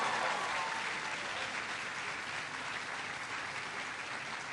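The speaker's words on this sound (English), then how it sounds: "can everybody please give Nelson a big round of applause for the outstanding job that he did." Audience applause at a President Obama event on ConnectED, honoring a student named Nelson; a dense, steady wash of clapping from a large crowd, loud and continuous throughout.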